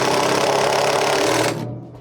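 A power tool tightens the bracket bolt on a Samsung washer transmission repair, buzzing loud and close for about a second and a half before it stops abruptly.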